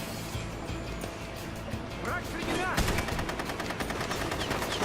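Automatic gunfire in the video game Rogue Warrior, rapid bursts of shots building into a dense, loud stream of reports in the second half, heard with game background noise.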